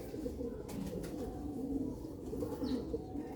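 Sialkoti pigeons cooing softly in a loft, low repeated throaty coos against a quiet background, with no speech.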